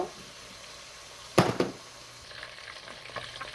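Chicken marinated in ginger-garlic paste, soy sauce and black pepper fries in a pan with a quiet, continuous sizzle, broken by a short louder clatter and spit of stirring partway through.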